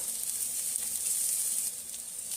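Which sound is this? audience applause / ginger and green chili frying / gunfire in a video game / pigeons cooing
ginger and green chili frying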